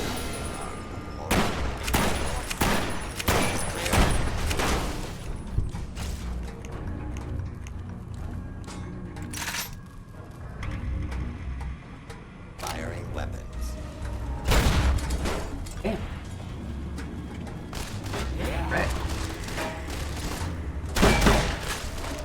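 Fallout: New Vegas Old World Blues combat with shotgun and weapon blasts firing in irregular bursts, some loud and close, mixed with mechanical clanks while a player talks over much of it.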